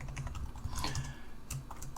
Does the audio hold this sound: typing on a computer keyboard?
yes